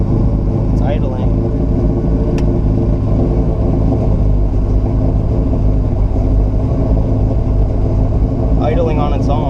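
A 1969 Buick Special Deluxe engine idles on its own with fuel issues and retarded timing, a steady close low rumble running throughout with a few faint voices over it.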